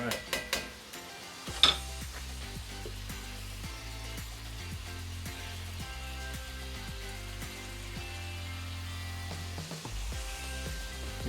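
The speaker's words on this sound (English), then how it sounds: "We're going to let this come up to a boil real quick. Keep stirring it." A spoon stirs chicken pot pie filling in a pot as it comes to a boil, soft scraping and clinks over a low steady bubbling hiss, with a few sharper knocks against the pan early on.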